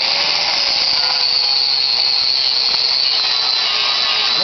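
Power tool with a grinding wheel grinding a high weld off a 1986 Jeep body during rust repair, a steady loud high-pitched whine running unbroken throughout.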